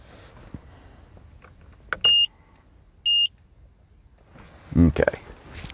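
A racing tachometer's shift buzzer gives two short, sharp electronic beeps about a second apart, in a quiet room with someone talking near the end.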